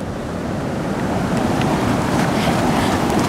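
Choppy ocean waves wash in at a beach, a loud continuous roar of surf with wind buffeting the microphone.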